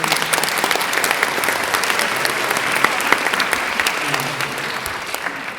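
A crowd applauds at a Lamar high school concert band performance, dense sustained clapping that fills the room at a strong, even level from start to finish.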